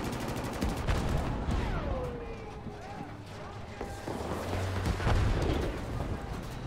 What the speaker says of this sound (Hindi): यहाँ पे एक आर्टिलरी टैंक है